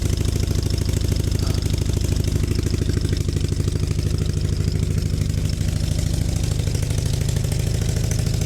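A project motorbike engine runs steadily with its newly finished exhaust, a loud, close, continuous rumbling idle with a throbbing low pulse and no talk over it.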